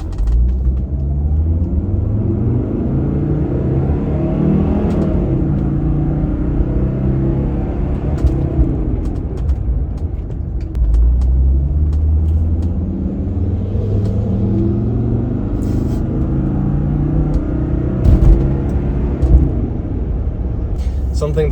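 A 1995 Mercedes-Benz E250 W124 with an inline five-cylinder diesel pulls away from a stoplight, its low engine rumble and drone rising gradually through the gears inside the cabin, with someone talking over it.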